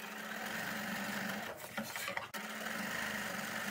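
A sewing machine runs a zigzag free-motion stitch on paper, giving a steady, close mechanical whirring with a brief pause and slowdown midway before resuming.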